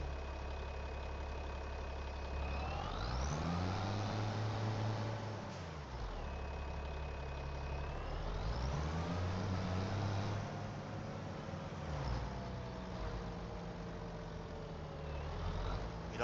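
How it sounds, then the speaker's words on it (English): A tractor in a video game drives along, its engine running at a low rumble with repeated rising and falling revs as it changes speed, steady and moderately close. "so let's take the tractor over there."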